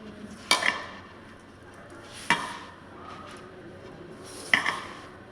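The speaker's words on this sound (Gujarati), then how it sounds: "આવી રીતના મિક્સ કરતા જઈને મેંદો એડ કરતા જવાનું છે" Flour being mixed into dough in a bowl, heard as three sharp spaced clinks and scrapes of a utensil against the bowl with quieter stirring between, close and clear with no talking.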